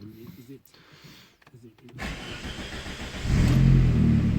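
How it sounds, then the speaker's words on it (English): A Vauxhall Astra mk5 cranks after a short whir of its fuel pump priming, then its engine catches and settles into a loud, steady close-up idle, while someone speaks briefly over the start. "Oh, fuel pump's kicked up."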